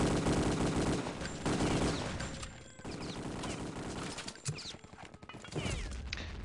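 MP40 submachine gun fire chatters in Return to Castle Wolfenstein multiplayer, with dense, near-continuous loud bursts mixed with other weapon noise and clatter.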